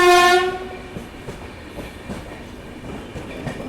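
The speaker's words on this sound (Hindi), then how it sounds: "सामने से एक और कोई ट्रेन आ रही है जिसका डिपार्चर हुआ फ़िलहाल मेहसाणा जंक्शन से" Somnath Express passenger train (Veraval–Gandhinagar) approaching after leaving Mehsana Junction, opening with a loud horn blast that fades into a steady rumble and faint clatter of the passing rail cars.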